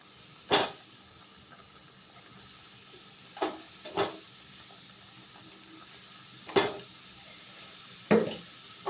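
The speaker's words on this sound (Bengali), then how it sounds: "এটা কিন্তু খুব ভালো করে ফুটেছে আর আমগুলো সিদ্ধও হয়ে গেছে" Mango chutney with sugarcane jaggery simmers in a pan with a faint steady hiss, punctuated by five distinct stirring knocks spaced a few seconds apart, near and alone without talk.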